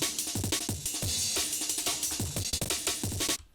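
A chopped and looped drum break sample plays as a dense, busy breakbeat layered underneath a track, with crisp snares and cymbal wash over punchy low hits, steady and fairly loud before cutting off.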